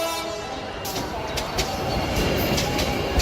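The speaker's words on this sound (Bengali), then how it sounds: "যখন তখন হুইসেল বাজিয়ে ট্রেন আসতে পারে। একথা বলতে না বলতেই হুইসেলের শব্দ শুনতে পেলাম।" Cartoon train noise at a station: a steady, loud rumble of rolling rail wagons fills the whole stretch, with short bright bursts near the top that may be a whistle sounding as the train draws in.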